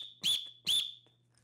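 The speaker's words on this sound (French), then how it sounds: "Ça va être de suivre le son du sifflet" A whistle is blown twice in quick succession for a karate class, two loud shrill blasts with a brief gap between them, alone in quiet surroundings.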